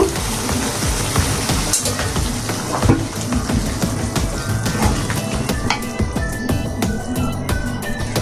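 Beef liver bhuna sizzling loudly in a pan, a continuous close crackle and hiss with occasional stirring scrapes, heard without talk.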